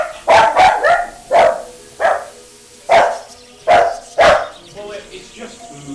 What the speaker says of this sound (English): I was going to have to deal with the dog barking here for a sec.